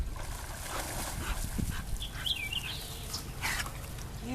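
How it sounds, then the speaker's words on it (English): A German Shepherd dog whimpers and whines softly in short, high cries, faint and at moderate distance over outdoor background noise. "I gotta tell you what dog I like. That big, nice shepherd."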